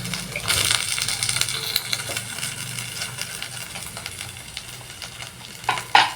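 Canned sardines sizzle and fry in a pan while being stirred, with a continuous hiss, scraping utensil clatter and occasional sharp clinks against the pan, close-up and fairly loud.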